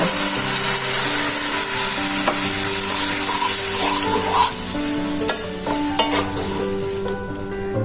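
Water poured into a pan of bitter gourd curry sets off a loud, steady sizzle and bubbling hiss, with a soft clink of the bowl partway through and the frying dying down slightly toward the end.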